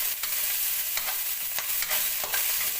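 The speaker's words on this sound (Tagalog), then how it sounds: "Maggisa lang tayo ng bawang. Tapos sibuyas. Sunod na rin natin yung luya" Garlic, onion and ginger sautéed in a pan for beef-skin balbacua, a loud, dense sizzle cut by a regular series of stirring scrapes roughly every half second, close and with no talk.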